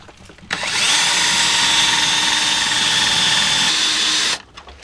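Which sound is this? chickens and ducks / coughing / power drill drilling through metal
power drill drilling through metal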